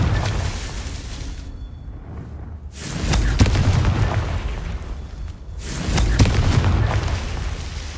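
Confringo spells explode in the video game Hogwarts Legacy. Two heavy booming blasts go off a few seconds apart, each loud and close, with a rumbling tail between quieter gaps.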